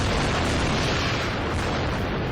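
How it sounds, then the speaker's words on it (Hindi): An explosion brings down the tallest tower in Gaza City, producing a continuous, loud, broadband roar and rumble that fills the whole stretch without letting up. "ये देखिए विस्फोट में जमींदोज हुआ गाजा का माखा टावर।"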